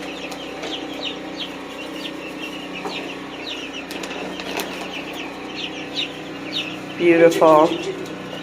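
Backyard flock of mixed-breed chickens clucking and chattering nearby, with a louder burst of squawks near the end, while a person speaks softly over the birds.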